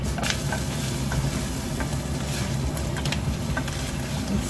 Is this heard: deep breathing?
no